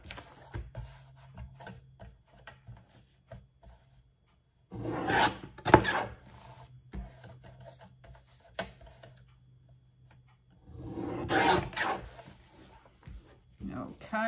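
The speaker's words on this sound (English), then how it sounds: "we're just gonna trim this down to a more manageable size here" Sublimation paper being trimmed down to size for a travel coffee mug, two brief crisp cutting bursts several seconds apart against a quiet background.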